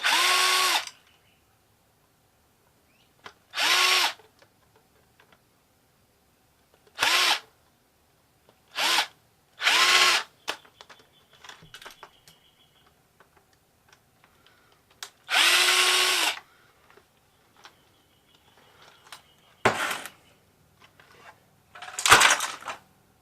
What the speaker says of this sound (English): I'll keep taking screws loose.